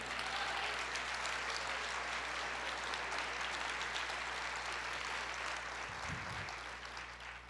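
A church congregation claps together in a broad, steady wash of applause that fills the room, fairly distant and even, easing slightly at the end beneath a low hum.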